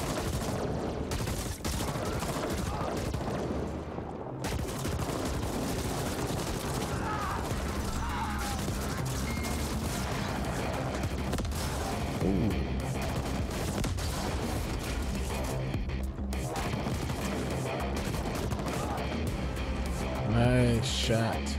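Gunfire from The Ascent video game, rapid bursts and sustained automatic shooting throughout, dense and loud, with a voice talking over the action.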